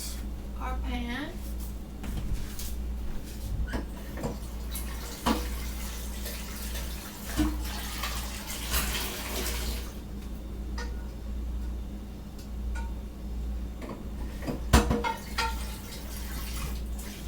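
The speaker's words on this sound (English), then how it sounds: "We're gonna rinse our pan." Water runs from a kitchen tap while a pan is rinsed, a continuous splashing flow with occasional clinks and drips, close by, beneath a low steady hum and some nearby talking.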